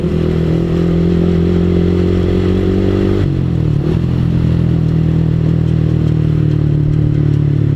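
A clutch-type motorcycle rides down a sloping road, its engine droning loud and close, then shifting pitch sharply around three seconds before settling into a steady, lower running note with faint mechanical clatter.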